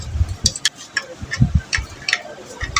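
Nuts on a jet water pump motor are tightened in a crisscross pattern, with a series of sharp metallic clicks and taps from the tool at close range, irregular and fairly loud.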